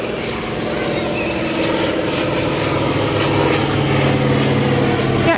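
A Yak aerobatic propeller plane flies at an airport, its engine drone loud and steady throughout and building slightly, with faint voices underneath.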